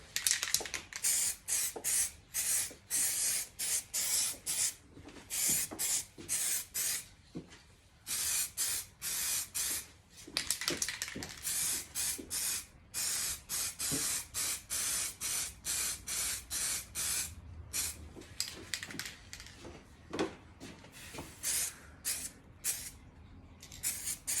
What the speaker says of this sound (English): So let's get some lacquer on it.